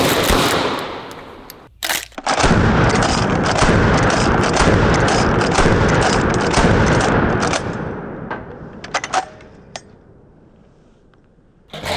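Pump-action trench shotgun slam-fired outdoors: one sharp blast, then a long, loud run of rapid-fire shots blurring into continuous roaring echo, fading into a few scattered clicks and reports.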